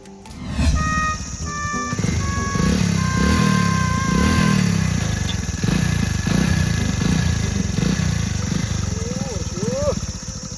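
A motorcycle engine runs close by for the whole span, loud and continuous, rising with a few revs, while people talk over it.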